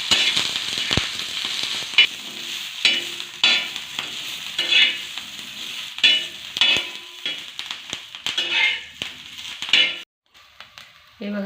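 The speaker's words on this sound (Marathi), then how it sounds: "आपण तवा गरम झाला की त्याच्यामध्ये मिरच्याचे तुकडे टाकून भाजून घेणार आहोत" Green chilli pieces roast in a little oil on a hot griddle for thecha, with a constant sizzle broken by repeated stirring scrapes and clinks of a utensil. The sound stops abruptly near the end.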